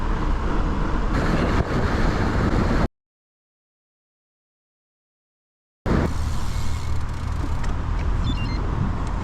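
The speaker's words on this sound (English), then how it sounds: "welcome back to civilization and traffic" Steady broadband road traffic near the M5 motorway, a continuous loud wash of passing vehicles heard close by, cutting out briefly in the middle before resuming.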